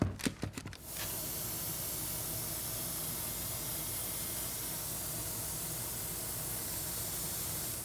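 Spray paint applied in coats onto masked foam props: a few quick sputtering bursts at first, then one long, steady, loud hiss held close to the can for the rest of the clip.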